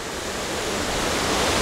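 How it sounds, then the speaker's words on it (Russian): Steady rushing water roars loudly and evenly, like a fast mountain river flowing through a canyon close by, with no voices; the Chirag River in Dagestan. "Вот такая вот горная река"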